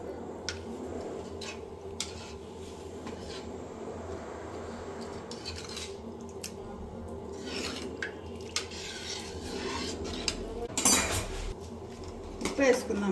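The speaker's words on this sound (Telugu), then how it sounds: "కొంచెం అంతా కలుపుకున్నాము మిక్స్ అయ్యేలాగా" Spoon scraping and clinking against a metal pot while masala vada curry is stirred, a steady series of light taps and rubs that grow louder and sharper toward the end.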